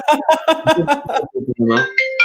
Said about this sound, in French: le téléphone qui m'a sonné